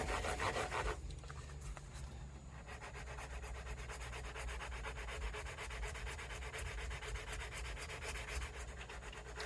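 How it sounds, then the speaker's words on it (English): Worn fine-grit sandpaper, around 600, polishes the soft metal frets of a Gretsch Streamliner guitar in steady close rubbing strokes, a continuous dry scratchy swish heard alone without pauses. "There's barely any grit left on there, but it works great for just polishing out this soft metal."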